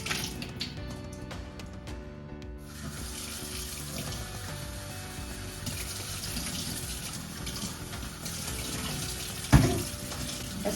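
Steady, close running water pours over soaked alfalfa and clover seeds on an AutoSprout sprouting tray, a continuous tap-like stream with a single sharp knock near the end.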